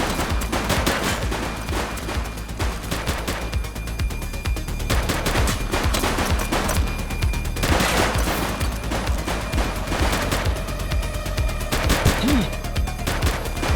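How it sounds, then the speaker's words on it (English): Gunfire in a police shootout in the video game The Precinct: loud, dense bursts of automatic and single shots close by, overlapping continuously with a steady rumble beneath. "Shots fired!"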